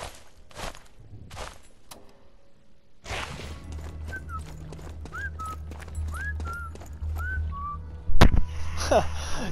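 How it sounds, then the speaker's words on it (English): A person whistles a short rising-and-falling tune in the Sniper Elite 4 video game, several clear chirpy notes in a row over footsteps and ambient rumble, followed by a sharp crack. "You know, I've only just noticed that whistle."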